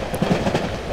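Inside a moving train in the horror video game Cry of Fear, a loud, steady rumble with faint rhythmic clatter fills the space continuously, with no speech heard.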